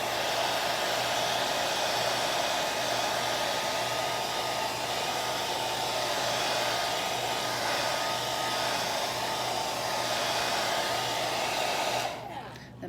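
Steady, loud whoosh of a hair dryer blowing on distress oxide ink over glossy photo paper, running continuously before switching off at the end.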